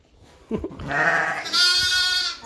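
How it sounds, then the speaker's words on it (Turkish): A sheep on a farm bleats loudly at close range, a long wavering call followed by a second strained bleat, after a short human vocal sound at the start. "Bu koyunumuz."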